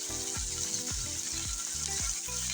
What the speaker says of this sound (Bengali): ভালো করে চিংড়ি আর পেস্টটা ভেজে নিচ্ছি তেলের সাথে